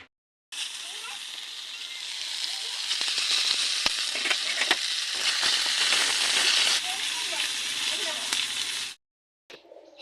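Crab frying in a pan gives a steady broadband sizzle with scattered pops and crackles running for about eight seconds, then cutting off abruptly.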